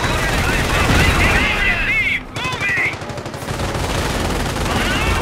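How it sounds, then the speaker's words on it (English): Dense rattling machine-gun and rifle fire from a Company of Heroes skirmish battle on the Langres map, loud and continuous with brief dips, under a voice speaking. "Firing at us."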